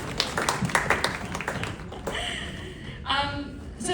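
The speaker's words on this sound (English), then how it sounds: "applause." Audience applause at a Future Concrete Leaders evening event in Melbourne, a dense patter of claps filling the room for about two seconds before thinning into scattered taps and murmuring voices.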